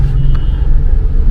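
Low, steady road rumble and engine drone heard from inside a car stuck in heavy traffic, loud and continuous with no talk.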